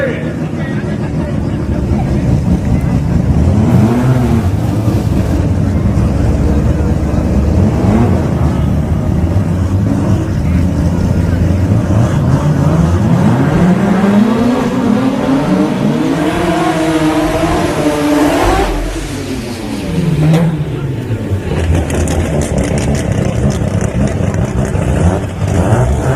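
Drag race cars roar down the track at a drag racing event, loud sustained engine noise with rising and falling pitch sweeps as they accelerate and pass, an announcer talking over the racket.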